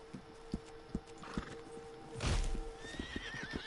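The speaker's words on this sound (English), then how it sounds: "so I guess we are calling the horse" A horse in the video game Red Dead Online gives a loud whinny midway, after a steady series of hoof clip-clops drawing closer, then more hoofbeats continue with no voices.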